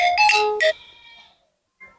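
A phone ringtone plays a bright electronic warble that fades out, then starts again briefly after a short silence, loud and close with no talk.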